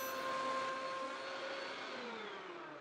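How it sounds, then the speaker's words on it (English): A belt sander grinds steadily along the edge of a built-in cabinet panel, a loud continuous whine with tonal hum that fades slightly as the pass goes on, with no voices. "I just take my belt sander and slowly sand up to that line"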